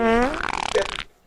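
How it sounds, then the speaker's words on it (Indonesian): One loud, close fart, a drawn-out sputtering blast with a rising, wavering pitch that breaks into rapid flutters before stopping abruptly. "Masuk tuh suara kentut lo"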